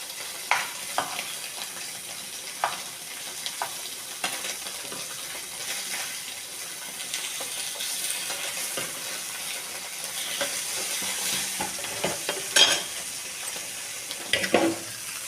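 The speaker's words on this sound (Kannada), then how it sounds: "ಇವಾಗ ಪನ್ನೀರನ್ನು ಫ್ರೈ ಮಾಡ್ಕೊಳಕತ್ತೀನಿ" Paneer cubes fry in a pan for a palak paneer dish, giving a soft continuous sizzle with scattered light clinks and scrapes of stirring, fairly quiet and close, no talking.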